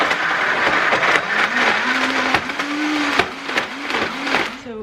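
A kitchen blender blends raw liver, its motor whirring loud and steady with a pitch that dips and rises in a repeating rhythm as it chews through the firmer bits, running close and alone before cutting off at the end.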